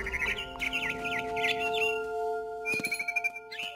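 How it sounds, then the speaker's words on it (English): Barn swallow chirping near a nest in What Remains of Edith Finch, a run of bright twittering calls up close, followed by a few sharper chirps over a steady musical drone. "Then I heard chirping outside my window. It was a barn swallow going back to her nest."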